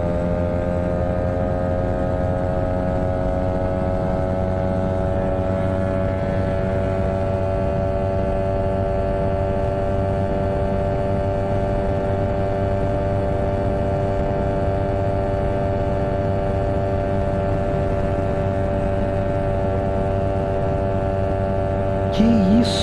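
A Yamaha R15 motorcycle engine held at full throttle against the rev limiter in fifth gear, a loud sustained steady drone with strong even harmonics, near and unbroken throughout, no talk.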